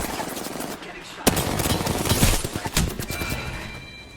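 Rapid gunfire in a battle royale video game, a dense run of sharp cracks and bursts layered over a constant noisy game background, with a sudden loud shot partway through.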